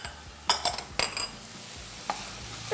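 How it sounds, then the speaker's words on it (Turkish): Vegetables and peppers frying in a pan, for stuffed eggplant, sizzle softly under a few clinks and scrapes of stirring, all close and fairly quiet. "Şöyle bir karıştırdıktan sonra biberi de ilave ediyorum."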